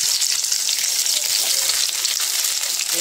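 Tomatoes sautéing with onions in a pan for chicken binakol, a steady close broadband sizzle of frying that runs unbroken throughout with no talk.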